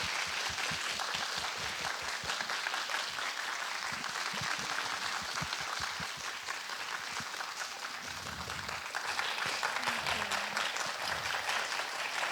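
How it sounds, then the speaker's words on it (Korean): A live audience at a Catholic youth lecture event applauds steadily and at length to welcome author Choi Eun-young, the dense clapping filling the room with a slight swell toward the end. "박수로 네, 맞이해 주세요."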